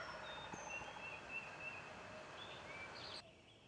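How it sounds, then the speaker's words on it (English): A wild turkey gobbler gobbles from deep in the woods, faint and far off, with a few brief bursts over steady outdoor background noise. "I can hear the old gobbler back in the woods talking his head off."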